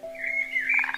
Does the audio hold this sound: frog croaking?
yes